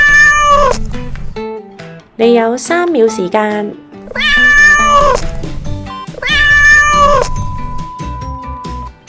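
A domestic cat meows in several long, drawn-out calls with rising and falling pitch, loud and close, separated by short pauses, while a voice speaks briefly between calls.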